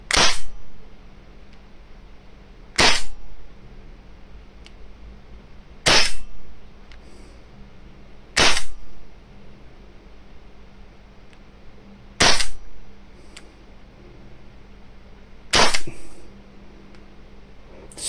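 A Walther T4E TR 50, a .50 caliber gun fitted with a conversion kit, fires six sharp, loud pops at roughly three-second intervals. Quiet background separates each shot.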